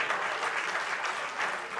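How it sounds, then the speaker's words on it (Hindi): Audience applause at a Holi Rang Panchami poetry gathering, a dense steady wash of many hands clapping for the whole short stretch, fairly loud and without talk over it. "एक बार तालियां बजा दीजिए"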